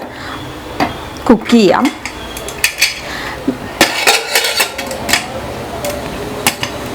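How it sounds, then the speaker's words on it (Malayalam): A pressure cooker holding apple jam with rock sugar is handled in a home kitchen. Its metal lid clanks and scrapes shut among sharp clinks and clatter, with a few spoken words over the noise. "ഈ സമയത്ത് നമുക്കിനി കുക്കർ അടച്ചു വെച്ചിട്ട്"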